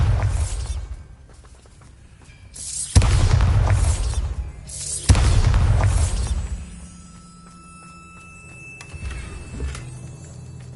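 Two loud, booming blasts from the Bombarda explosion spell in Hogwarts Legacy, set a couple of seconds apart, each with a crashing burst and a rumbling tail. Quieter magical and ambient sounds fill the gaps between them.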